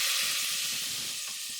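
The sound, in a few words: sizzling of frying spicy tomatoes and rice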